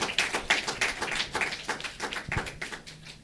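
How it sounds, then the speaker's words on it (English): Conference audience at a session on legal frameworks and access to justice for women in Africa claps for a speaker, a thin scattering of individual hand claps with uneven rhythm, fairly near and moderate in loudness. "let's give him another round of applause"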